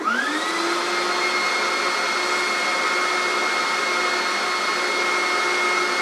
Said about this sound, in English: Now let's turn the dust extractor on with two motors, which is what I usually use.